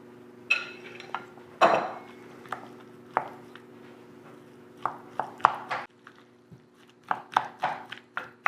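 Potato salad being mixed with mayonnaise, heard as a series of close, sharp clinks and taps of a utensil against a bowl, coming in irregular strokes with brief pauses between them.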